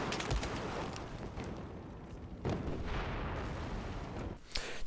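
Rapid, continuous minigun fire from a scout helicopter in Battlefield 4, a dense rattling stream of shots, close and loud, with brief pauses between bursts.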